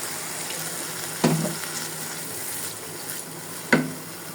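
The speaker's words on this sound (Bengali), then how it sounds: "ভাজা হয়ে গেছে, এখন একটু পানি দিয়ে দেব।" Water goes into a pan of onions, garlic and ginger paste frying for a hilsa head and tail curry with pointed gourd and potato, a soft steady sizzle broken by two brief splashing pours, with no talking.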